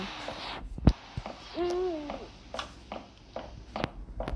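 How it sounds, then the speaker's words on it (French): An owl hoots in the horror video game Sally Face, a single wavering low hoot heard over a noisy game soundtrack with scattered clicks and footsteps. "Est-ce qu'on peut pas faire un truc avec ce hibou là à la fin?"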